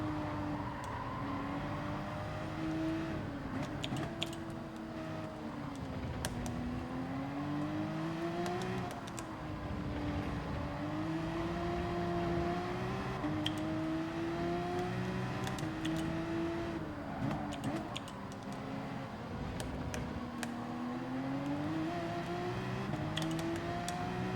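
A race car in Gran Turismo 7 laps Interlagos on cold tyres, its engine droning continuously with rising and falling revs through gear shifts and corners, steady and close, with no talking.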